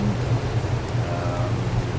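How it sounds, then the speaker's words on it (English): Rain falls steadily on the center map in the game ARK, an even, close hiss of drops with a low rumbling undertone, constant and unbroken with no speech. "Of course, it's raining again."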